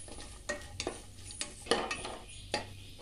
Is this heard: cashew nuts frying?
yes